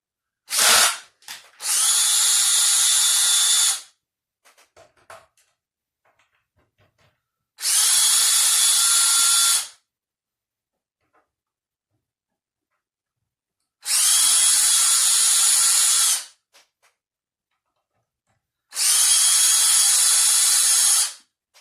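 A power drill whines in four separate bursts of about two seconds each, separated by silence, as screws are backed out to remove the neck from a Squier 51 electric guitar during servicing; close and loud, no speech.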